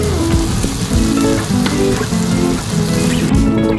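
Fresh tomatoes tipped into a hot frying pan of chicken marag mix, giving a steady, close sizzle and crackle that runs evenly throughout, with faint stirring clinks and no talking.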